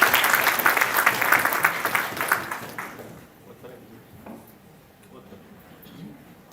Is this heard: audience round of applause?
yes